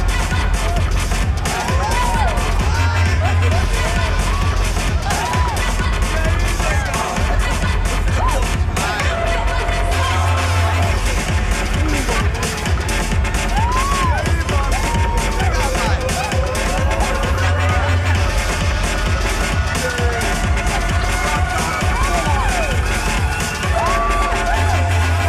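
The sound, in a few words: crowd noise in Max Payne 3 video game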